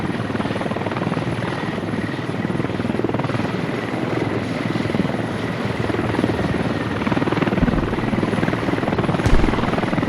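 A military helicopter in a video game scrimmage drones steadily with a thick rotor and turbine roar, loud and continuous throughout, with no voices over it.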